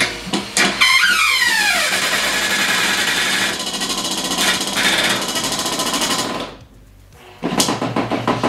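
A cordless screwdriver, set against a Makita, drives self-tapping screws with a loud, sustained whirring rattle. The motor pitch climbs as it spins up, runs steadily for about six seconds, stops briefly, then starts again.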